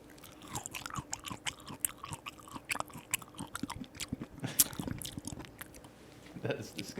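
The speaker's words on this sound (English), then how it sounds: "Can you chew it one more time?" Someone chews an orange during a blind taste-guessing game: close, quiet wet crunching and squishing bites in an irregular rhythm, with faint background noise and a brief voice near the end.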